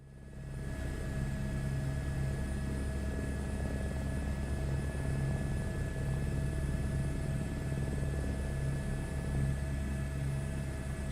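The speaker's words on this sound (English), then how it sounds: "Getting us an Action Helicopter 1." A helicopter flies in a flight simulator game, with a steady, loud low rotor and engine drone holding constant throughout and no talk.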